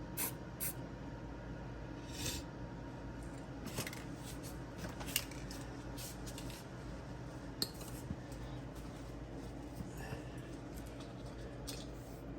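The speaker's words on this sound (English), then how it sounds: "I'm just gonna touch it with some spray paint real quick." Short hissing bursts of spray paint hit a Jeep Wrangler JL frame freshly wiped with brake cleaner near the rear shock mount, quiet and close, with faint clinks of tools in between.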